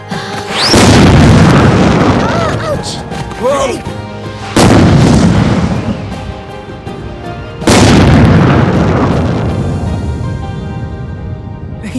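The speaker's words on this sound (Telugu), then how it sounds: "పెద్ద బాంబు పెట్టాలి." Three big firecracker bombs burst one after another, each a loud close boom followed by a long crackling, rumbling decay that fades before the next blast.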